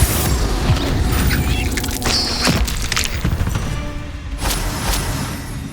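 A fiery Confringo blasting spell explodes in Hogwarts Legacy, a loud, sustained boom with heavy low rumble and crackling debris, followed by a sharper burst near the end.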